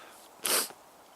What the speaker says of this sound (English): That sneeze should be enough to startle them off.